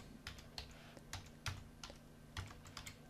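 Fingers type on a computer keyboard while someone enters code for a WordPress theme, producing quiet, irregular clicks and taps with a few sharper keystrokes, close by and with no talking.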